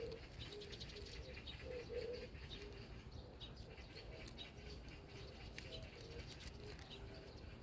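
Outdoors among mulberry trees, pigeons or doves coo in soft repeated phrases while smaller birds chirp in the background, all fairly faint and distant.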